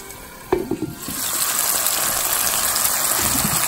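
Onions and garlic frying in a pan for a Bengali arum-lobe and shrimp dish, a sharp clatter and stirring knocks, then a steady loud sizzle hissing throughout.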